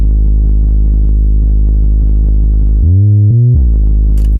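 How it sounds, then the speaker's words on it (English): A loud, steady synth sub bass built from a sine and a saw wave through a low pass filter for drum and bass, holding one deep note with a brief pitch drop near the end before cutting off. "This is a sine and a saw with a low pass filter"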